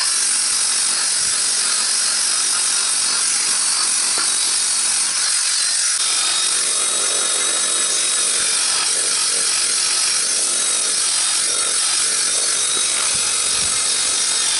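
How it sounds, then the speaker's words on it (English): A paint and rust stripper wheel chucked in a drill grinding the surface of a steel discada, a loud steady abrasive whir running without a break, close up and with no voices. "What I've got here is like a paint and rust stripper."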